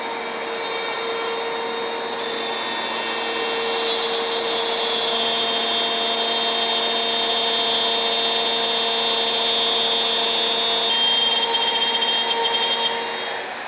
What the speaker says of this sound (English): I can plunge cut and go along like that